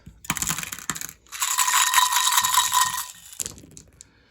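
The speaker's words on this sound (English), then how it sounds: "Let's grab the randomizer and all the dice." Dice clatter and rattle in bursts, a sharp rolling scatter followed by a longer tumbling rattle, close by during a tabletop wargame session.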